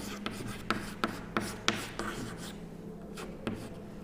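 Pen strokes scratching across paper during an English lesson, a run of short distinct scratches and taps, close and clear, with no speech over them.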